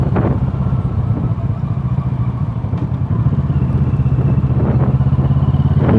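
A Kawasaki Versys 650 motorcycle engine hums steadily and close on a long ride home, its even drone running without a break under faint road and wind rumble.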